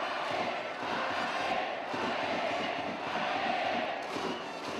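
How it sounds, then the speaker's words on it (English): Baseball fans cheer at a ballpark as a steady, dense crowd roar that swells slightly and rises again near the end. "The cheering during a game"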